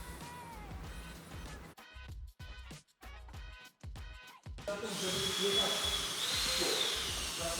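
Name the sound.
drilling into RAM 1500 truck part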